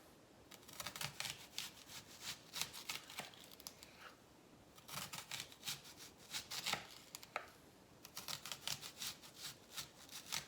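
A knife chops onion on a cutting board for escoveitch fried fish in pepper vinaigrette sauce, with quick rhythmic cuts in several bursts and short pauses between them, fairly quiet and close.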